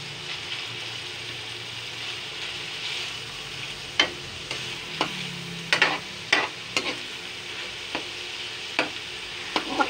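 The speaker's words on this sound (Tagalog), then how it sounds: "Konting gisa pa ng giniling para lalong maduto." Ground meat is sautéed in a pan for sopas: a constant soft sizzle with scattered scraping clacks of a spoon stirring, close by and with no voices.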